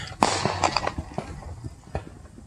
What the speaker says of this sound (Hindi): सब जगह पटाखे बज रहे हैं